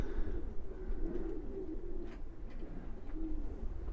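Baby racing pigeons and Birmingham roller pigeons coo softly and steadily in a breeding loft, their low murmuring calls layered together and continuous close by, with no talking.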